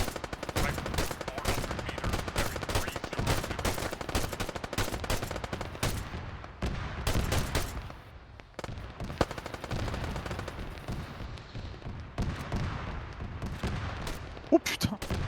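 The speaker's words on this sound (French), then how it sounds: "il y a un canon lourd qui nous tire dessus" Rapid gunfire from a heavy cannon in ArmA 3 crackles nonstop in dense bursts, with a brief lull in the middle before the heavy firing resumes loudly.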